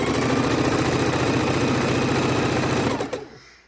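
A Singer Heavy Duty sewing machine stitches fabric strips for quilt borders along a quarter-inch seam, a steady, close, fast needle rhythm running for about three seconds before winding down and stopping.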